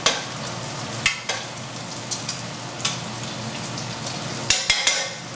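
Pasta in a pot of water gets stirred, a soft continuous bubbling and simmering hiss broken by several sharp clinks of the utensil against the pot, two of them close together near the end.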